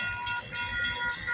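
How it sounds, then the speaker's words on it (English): A westbound CSX local freight train rumbles steadily through a switching area, with a sustained tonal horn-like drone and regular rhythmic hissing pulses about every quarter second. "Westbound CSX local. About to do some switching at the Mar Products Company"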